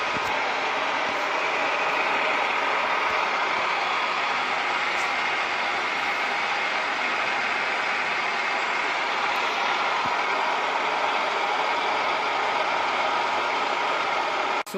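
A lathe runs with a workpiece held between the chuck and the tailstock, producing a steady, dense mechanical whir and rattle that continues unbroken throughout, with no speech.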